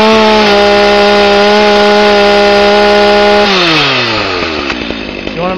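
A gas chainsaw runs with its chain spinning, a loud, steady high-revving whine that holds level, then drops in pitch as the engine winds down toward idle near the end, with no talking.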